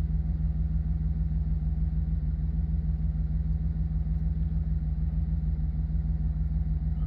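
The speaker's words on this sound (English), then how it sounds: "The motor's not making a lot of noise." A 2007 GMC Yukon Denali V8 with low oil pressure, treated with Seafoam and ATF in the crankcase, idles with a steady, even low rumble and a fine rhythmic pulse, close and alone, with no talking.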